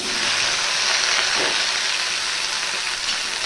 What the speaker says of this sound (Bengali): এবার তেলটা গরম হয়ে গেলে আমি দিয়ে দিচ্ছি ভেন্ডিগুলো